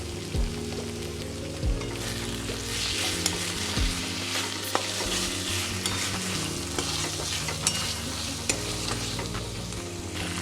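Fried potatoes go into a pan of green tomato curry and are stirred while frying, with a steady moderate sizzle, repeated scraping spatula strokes and clunks against the pan, no talking.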